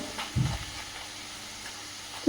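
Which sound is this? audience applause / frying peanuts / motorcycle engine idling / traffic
frying peanuts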